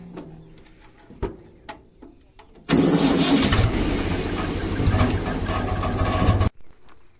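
A farm tractor engine cranks over after a few quiet knocks, catches into a loud, steady diesel rumble close by, then runs on for several seconds before suddenly cutting out.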